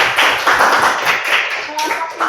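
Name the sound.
classroom applause for a student group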